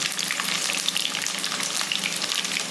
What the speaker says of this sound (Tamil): இதை வந்து எண்ணெயில் நல்லா வதக்கிடுங்க கலர் வந்து கொஞ்சம் சேஞ்ச் ஆகணும்